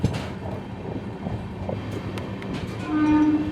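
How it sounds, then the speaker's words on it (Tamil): A Sapthagiri Express AC train leaving a Chennai platform rumbles and clatters steadily, with a brief horn tone near the end, close and fairly loud with no talk. "ட்ரெயின் பிளாட்ஃபார்ம் விட்டு வெளில போகும்போதே நல்லா ஸ்பீடாக தான் போகுது"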